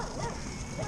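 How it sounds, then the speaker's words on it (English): A dog barks and yips at a passing electric skateboard, short high bursts picked up outdoors through a GoPro microphone, mixed with wind and road noise and fairly loud throughout. "yeah, dogs are a problem."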